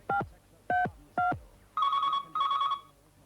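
An old-style telephone gives three short ringing bursts, followed by two longer electronic tone bursts, clear and fairly close with no talking.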